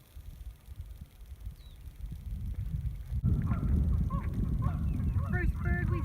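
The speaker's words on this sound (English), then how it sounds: "First bird we spotted today is the trumpeter swan." Trumpeter swans calling on a lake, a run of nasal honking notes that starts midway and repeats in uneven bursts over steady low outdoor rumble.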